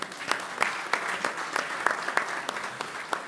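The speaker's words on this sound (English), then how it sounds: "Nous allons applaudir" Applause at an international forum session, a modest, fairly sparse clapping with regular sharp claps standing out in a steady rhythm, moderately quiet in a large room.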